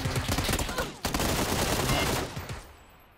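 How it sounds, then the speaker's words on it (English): Rapid bursts of gunfire in the video game PUBG on Xbox, a dense crackling fusillade that stops sharply, resumes, then fades out over about three seconds. "Who was that shooting?"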